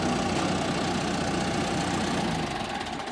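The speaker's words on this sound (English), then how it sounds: "So he's putting the loader up." Farm tractor engine running as the front loader is raised, a loud, close, steady diesel rumble with a rough knocking texture and constant vibration, no voices.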